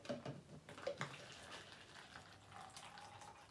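Hot water runs and trickles into a cup with a soft, steady pouring sound throughout, quiet and close, with a few light clinks at the start.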